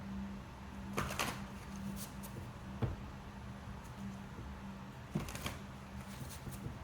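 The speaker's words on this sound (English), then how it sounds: "I'm shuffling tarot so that I can pull some more" Tarot cards being shuffled by hand, heard as soft papery riffles and flutters in short bursts with pauses between, close and fairly quiet over a faint steady low hum.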